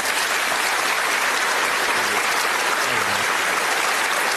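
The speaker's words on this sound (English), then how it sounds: "Nice applause, sir." Audience applause in a TV game-show studio for the darts world champion appearing on Bullseye; loud, dense, steady clapping from a large crowd across the whole span with no speech.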